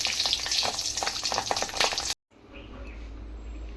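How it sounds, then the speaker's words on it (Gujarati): Stuffed capsicum peppers sizzle steadily in a hot pan, a dense close frying crackle that cuts out briefly and returns as a quieter, lower sizzle. "હવે હું આ બીજું છે એ પણ એ જ રીતે હું ફ્રાય કરી લઈશ ચારેય કોર."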